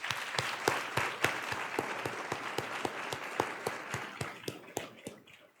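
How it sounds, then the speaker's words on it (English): Audience applause at an academic meeting's student elevator pitch session, a steady wash of many hands clapping with distinct sharp claps throughout, gradually thinning and fading toward the end. "We have a round of applause for all of the candidates."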